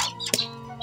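A pet bird gives one short, sharp chirp during cleaning of its cage, close by and alone against a faint background hum.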